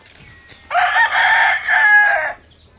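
A rooster crows once, loud and close, a drawn-out call of about a second and a half at a chicken coop, with faint clucks and background noise around it.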